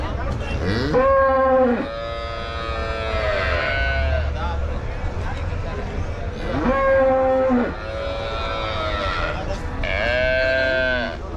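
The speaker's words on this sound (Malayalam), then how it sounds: "നല്ല അടിപൊളി സൈസുള്ള പശുക്കളാണല്ലോ നിൽക്കണേ" Large cows bought for Kerala lowing loudly nearby, three long drawn-out moos spaced several seconds apart, each rising and falling in pitch, with ambient farm background in between.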